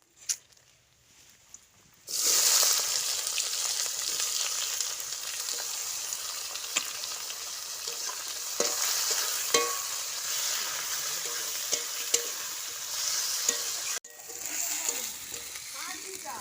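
Meat fries with garam masala spices and cardamom in a hot pan. A loud, dense sizzle bursts in after two seconds and holds steady for about twelve seconds, broken by occasional scraping stirs, then drops away to a quieter hiss.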